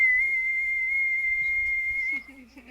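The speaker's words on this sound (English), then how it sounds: "Sab lets out a whistle and it echoes across Sharn." A single steady, sustained whistle holding one clear pitch for about two seconds, loud and close, then cutting off abruptly at the end.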